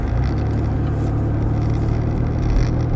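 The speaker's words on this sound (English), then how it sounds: "Had to get truck one fired up for the day" A 2005 truck engine idling in the snow, a close, loud, steady low rumble with an even pulsing throb throughout.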